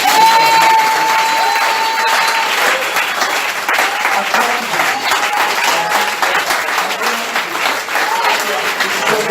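A church congregation applauds in acclaim of Jesus: dense, steady clapping with scattered cheers sustained throughout, with a voice rising briefly over the crowd at the start.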